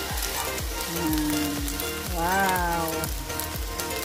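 Fried rice with longganisa, carrots and egg sizzling loudly in a pan, a dense continuous fry with regular stirring thumps; a voice briefly exclaims over it.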